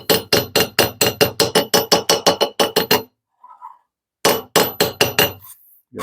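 Hammer striking the teeth of a Blackburn dovetail saw kit blade to set them, a rapid run of about twenty sharp metallic taps, a brief pause, then another short burst of taps, loud and close.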